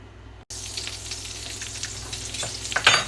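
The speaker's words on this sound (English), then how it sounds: "I'm going to go ahead and start getting a stick of the Kerrygold garlic herb butter melted in there." Kerrygold garlic herb butter melts in a hot cast iron skillet, a steady close sizzle and crackle that starts abruptly after a brief pause and swells with sharper pops near the end.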